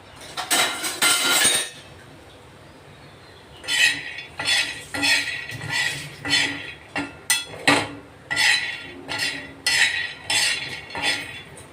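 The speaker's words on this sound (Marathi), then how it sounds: "तर शेंगदाणे भाजून घेऊ आधी." Peanuts dry-roasting in a pan for a stuffed chilli masala, stirred with repeated scraping and clinking strokes in rhythmic bursts, close and clear with no talk.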